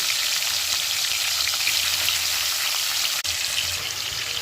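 Marinated chicken pieces frying in a pan on a low flame, a dense, even sizzle that runs without a break from start to end, with a brief dip near the end and no talking.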